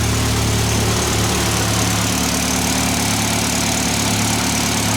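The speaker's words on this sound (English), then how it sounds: "They're about as high lift you can get away with on this engine, so they are always a bit tappy." Mitsubishi Evo X engine with a PT 6466 turbo and high-lift cams idles loud and close in a steady low rumble, with faint valve-train ticking woven through the drone and no voices.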